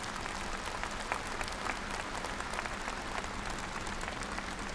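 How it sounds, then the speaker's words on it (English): A large audience at a Beijing ceremony presenting July 1 Medals to outstanding Communist Party members applauds in a dense, even roar that holds steady and sounds faint and distant, with no talking. "let's give them another warm round of applause"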